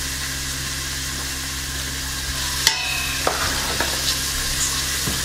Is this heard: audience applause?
no